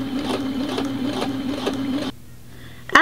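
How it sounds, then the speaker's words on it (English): A sewing machine runs a steady, close whirring stitch while understitching a printed bodice facing, with faint rhythmic ticks, then stops abruptly and a short click follows. "doing a regular width stitch, being careful not to go into my blue bodice piece and staying in the printed facing piece"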